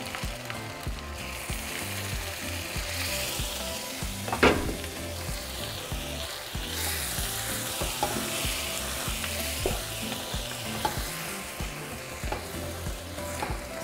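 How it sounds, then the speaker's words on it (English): Pork frying in a pan as chile sauce is poured in, a steady loud sizzle with stirring and a sharp burst of spatter midway, no talking. "So now we're going to add our chile sauce."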